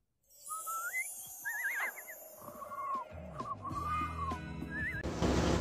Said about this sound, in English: Robin, I never knew whistles could be so powerful.